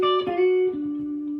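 Slide guitar playing a blues lick: bright, sustained notes that slide into one another and ring out clearly on their own.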